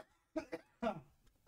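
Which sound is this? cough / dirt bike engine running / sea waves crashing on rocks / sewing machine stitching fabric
cough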